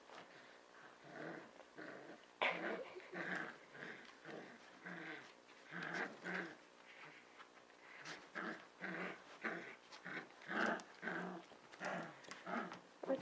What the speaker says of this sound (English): Cookie and Lucy playing tug of war